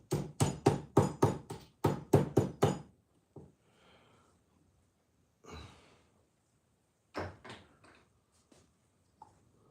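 A steel pin tapped into a Baja differential: a quick run of about ten sharp metallic knocks in two bursts, then a few scattered, fainter taps with quiet gaps between them.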